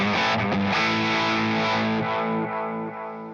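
A distorted electric guitar chord rings out through a Mesa Boogie amp, played on the neck pickup with the volume rolled back, thick and saturated, sustaining then slowly fading.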